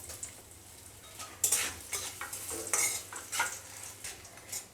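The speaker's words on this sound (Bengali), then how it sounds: "কাঠবাদামগুলো আমি একসঙ্গে ভেজে নেব।" Almonds and raisins fry in oil for egg pulao, a soft sizzle broken by repeated scraping strokes of a spoon against the pan, close and fairly quiet.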